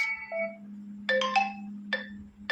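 The "Set out" ringtone plays on a vivo Y3s phone, bright synthetic melodic notes in short phrases over a steady low hum. The notes come in quick clusters with pauses between them, and no one speaks.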